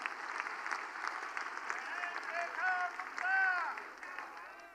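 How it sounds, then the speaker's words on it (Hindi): A large crowd at a Delhi–Haryana Agrawal community foundation-day gathering claps loudly and continuously, swelling toward the end, with voices and cheers mixed in under the dense applause. "एक बार जोरदार ताली बजा दो"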